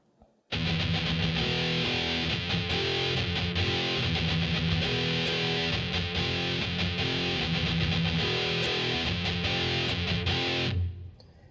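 A distorted electric guitar plays a section of a song at slow tempo. A dense, loud, sustained tone holds steady for about ten seconds with a repeating pattern, then cuts off abruptly.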